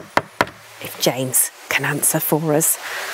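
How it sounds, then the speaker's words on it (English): Two sharp, loud knocks rap on a grand wooden door at the top of a stone stairway at Pitchford Hall, a historic Elizabethan house in Shropshire, then someone speaks. "thanks for knocking loud, because we haven't got a doorbell"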